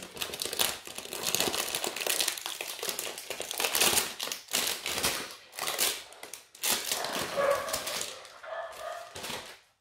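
Dogs bark in short bursts while an angle grinder runs outside during building work, the whining grind and crinkly noise dense and close throughout, with no talk.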